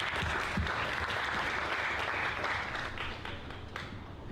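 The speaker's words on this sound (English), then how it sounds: "Let's once again give a huge round of applause for all our Expatpreneur Awards 2021." A roomful of guests applauds at a business awards ceremony, a dense, continuous patter of clapping that holds steady and then tapers slightly near the end.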